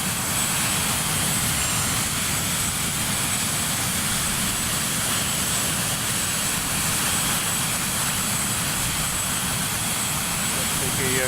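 Swissair MD82 jet engines droning in the Prepar3D flight simulator over the Alps, a continuous loud even roar with a thin high whine, steady and unchanging.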